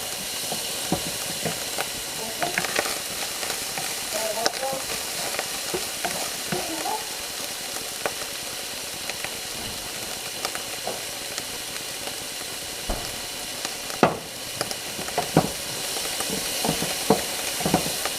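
Beef browns in a hot frying pan with a constant loud sizzle and crackle. Scattered spatters and stirring clicks rise above it throughout.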